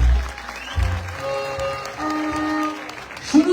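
An audience at a village solidarity night in Üsküdar applauds the club president and management team, a sustained burst of clapping mixed with music and voices, fairly loud and continuing through the whole stretch.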